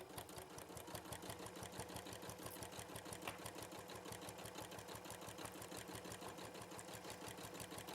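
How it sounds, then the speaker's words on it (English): Sewing machine stitching down a quilt, a steady rapid mechanical whirr and clatter running continuously throughout, faint and alone. "we're going to take it to the machine and start, as I say, halfway down your quilt and start sewing down"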